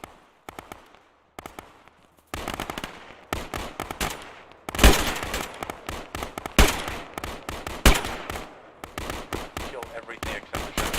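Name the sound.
gunfire in a video game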